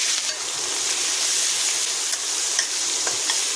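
Chopped onions frying in the hot oil left from frying eggplant, a loud, steady sizzle with a few faint stirring scrapes, with no talking.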